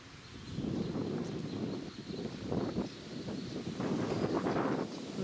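Wind gusts through a village summer garden of hydrangeas and hostas on a sunny day after heavy rain, a soft, steady rushing that swells and eases throughout.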